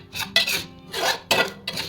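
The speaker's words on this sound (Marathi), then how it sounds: "रवा व्यवस्थित भाजून घ्यायचा, व्यवस्थित असं ढवळून घ्यायचं आहे" Semolina (rava) roasting in a pan while a spoon stirs it, making four short, close scraping strokes in a rough, quick rhythm.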